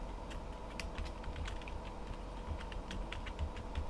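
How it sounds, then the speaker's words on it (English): Rapid, uneven tapping of keys on a computer keyboard, close and steady, with light clicks running throughout and no voices. "Why am I typing this?"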